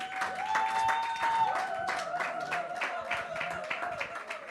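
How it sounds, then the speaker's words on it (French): A church congregation claps and cheers for the fathers during a French-language sermon, rhythmic applause that swells and then trails off over a few seconds, with a sustained tone underneath. "Est-ce qu'on peut acclamer pour les papas?"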